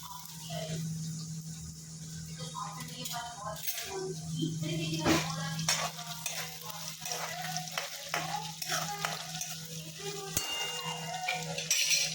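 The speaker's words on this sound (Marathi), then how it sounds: "तेल गरम झालेलं आहे मिरची टाकते" Green chilies dropped into hot oil on a home kitchen stove, a continuous crackling sizzle with scattered pops and metallic clinks of utensils, close and steady, with no talking.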